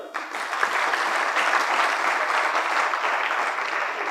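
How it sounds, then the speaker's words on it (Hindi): An audience bursts into clapping at a motivational career talk, starting abruptly and holding as a dense, loud wall of hands for several seconds. "ताली हो जाए भाई"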